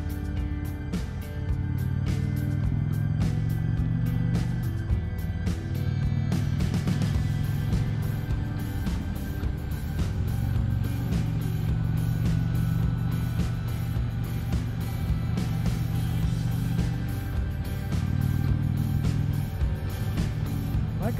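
A 2019 Indian Chieftain Dark Horse bagger motorcycle cruising a Leesburg, Virginia loop, its engine droning steadily and continuously with slight rises and falls in pitch as the rider shifts speed, mixed with constant wind rush.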